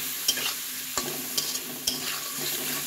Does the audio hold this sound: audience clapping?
no